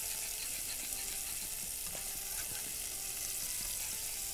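Chicken breasts simmer in chicken broth in a pot, giving a steady faint bubbling hiss with scattered soft pops and a few light clicks, continuous and low in level.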